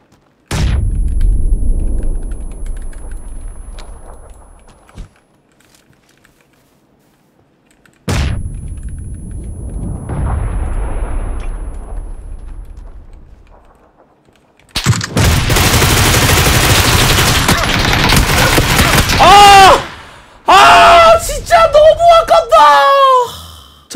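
Gunfire in the battle royale shooter PUBG: Battlegrounds, with two loud single shots each fading into a long echoing tail, then a dense burst of rapid fire mixed with other game sounds.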